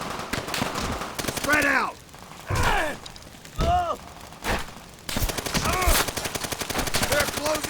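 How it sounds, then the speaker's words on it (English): Gunfire in Call of Duty: World at War, rapid bursts of rifle and machine-gun fire in a battle, loud and close, broken by short pauses, with a soldier shouting a command over the shots. "Allies and enemies stand next to each other and shoot"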